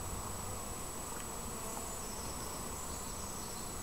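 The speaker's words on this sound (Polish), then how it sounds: "Pszczoły są w dobrej kondycji." Dense, steady buzzing of many honeybees at an apiary, close by, continuous and loud, with no voices.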